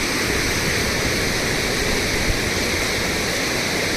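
Loud, steady roar of the flooded Ghod River rushing with muddy, foaming water, a dense broadband wash that never lets up, close by and with no voices.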